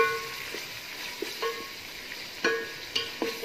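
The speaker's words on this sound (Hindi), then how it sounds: "और इसको अब मैं कर रही हूँ अच्छे से मिक्स।" A spoon stirs and mixes ingredients for kofta biryani masala in a pan, soft scraping strokes and clinks with a light sizzle underneath, close and moderately quiet.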